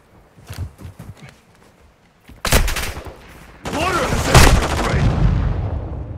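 Sharp bursts of close gunfire in a Call of Duty: Modern Warfare II firefight, starting with sparse shots and building into a dense, loud sustained volley with overlapping cracks.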